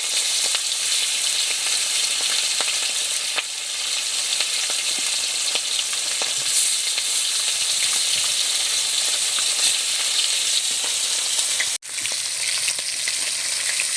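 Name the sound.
tengra fish frying and spattering in oil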